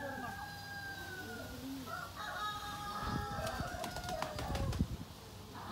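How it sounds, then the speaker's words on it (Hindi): Desi chickens kept in a farmyard, with a rooster crowing loudly and hens clucking amid bursts of wing flapping and scratching, all close by. "ये आम मुर्गे हैं, देसी।"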